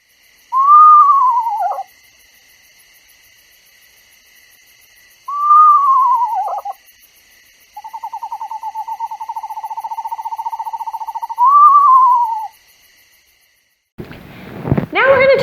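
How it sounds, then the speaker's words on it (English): An eastern screech owl gives a descending whinny call twice, then a long even trill ending in a rising whinny, clear and loud against quiet, before a voice starts speaking. "When you're out and about and you hear this sound, you are listening to an eastern screech owl."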